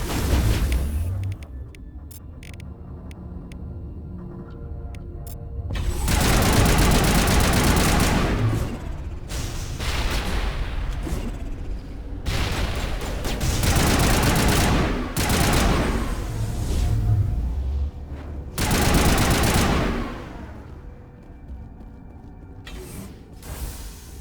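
Loud bursts of automatic gunfire erupt in a firefight in the Mass Effect video game, with sustained volleys separated by short pauses and mechanical clatter.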